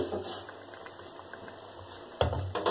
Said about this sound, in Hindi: देखिए हमारा गोश्त पकना शुरू हो गया है